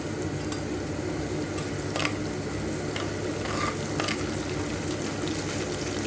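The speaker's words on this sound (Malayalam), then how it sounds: "കടുക് നന്നായി പൊട്ടട്ടെ" Oil sizzles steadily at close range while mustard seeds and fenugreek pop and crackle now and then, with faint stirring scrapes underneath.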